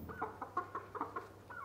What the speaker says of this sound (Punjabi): ਇਹ ਆਪਣੇ ਅਸ਼ੀਲ ਮੁਰਗੇ ਮੁਰਗੀ ਨੇ,